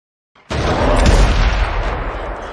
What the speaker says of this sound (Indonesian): Blake yang hendak menyerang langsung ditembak oleh Charlotte.